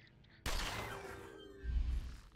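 A hand cannon fires in a video game: one sudden loud blast with a long ringing decay, followed by a low rumbling thud.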